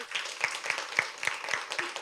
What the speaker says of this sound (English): Please give our judges a round of applause.